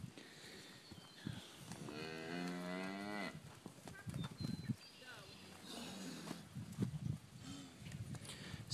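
Cattle on a drive low loudly with long, wavering moos up close, mixed with people talking and shouting, scattered thumps and movement in between.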